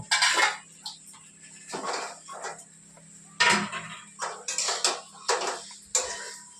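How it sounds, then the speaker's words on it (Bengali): A kadai rattling and knocking on the stove as potatoes are stirred one-handed, with bursts of clattering metal scrapes and bangs at irregular intervals over a faint low hum. "এক হাতে নাড়ছি আর কড়াইটা দেখো ড্যান্স করছে"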